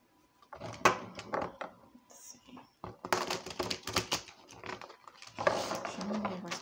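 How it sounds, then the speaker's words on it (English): Tarot cards are shuffled in fast riffling, rustling bursts with clicks and patters, close and moderately loud, with short pauses between rounds. "I am going to shuffle on camera, though."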